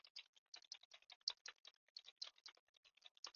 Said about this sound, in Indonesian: ini kita akan bisa pakai keyboard, ya, kita akan tes. Nih, bisa udah mulai ngetik nih ya.